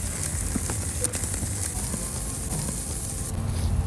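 A massive T-bone steak sizzles loudly on a hot charcoal grill, a steady close crackle and hiss with faint popping, holding constant throughout without speech.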